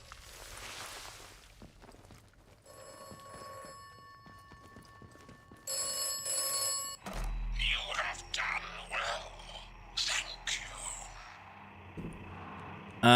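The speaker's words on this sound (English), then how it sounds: "The telephone's ringing." A telephone rings twice in short, bright bursts in the video game Atomfall, amid faint footsteps and ambient game noise, followed by voices speaking.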